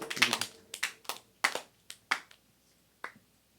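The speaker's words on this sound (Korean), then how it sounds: "박수 치는 것이 불량스럽네" Church congregation members clap during a worship service, giving a sparse, uneven run of single sharp claps with quiet gaps between them.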